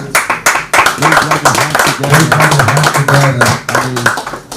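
An audience at a Nigerian independence anniversary public lecture claps steadily for a few seconds, a dense close patter of hands with a voice speaking over it.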